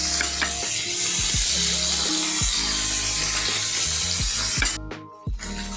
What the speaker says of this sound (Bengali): তেলটা গরম হয়ে গেছে, আমি তাতে দিয়ে দিব মাছগুলি ভাজতে।